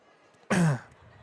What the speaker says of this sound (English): sorry, got to clear my throat